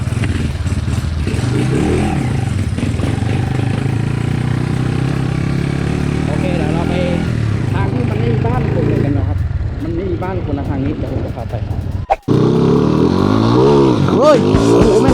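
A motorcycle ridden out for practice roars loud and close the whole time, its engine droning and revving steadily, with voices talking over the noise and a brief break near the end.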